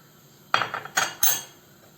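Batter of flour for fried cauliflower being whisked in a bowl, three separate bursts of utensil clinks and scraping against the bowl, close and fairly quiet, with no voices.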